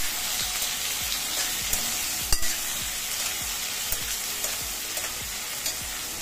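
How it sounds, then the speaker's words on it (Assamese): Onion, ginger, garlic and tomato fry in a pan, a steady close sizzle under rhythmic spatula scrapes repeating about twice a second, with one sharper clack. "ইয়াতে মই দিলো পিয়াজ ইয়াতে দিছে আদা নহৰু ইয়াত দিছে বিলাহী এতিয়া মই গোটেইখিনি ভালদৰে লৰাই দিছো"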